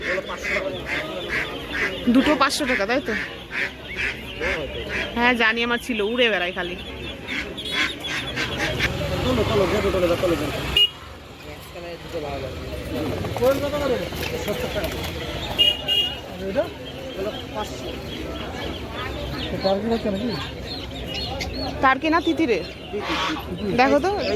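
Ducks and chickens at a busy poultry market, with honking and quacking calls repeating throughout amid crowd noise and frequent talking nearby.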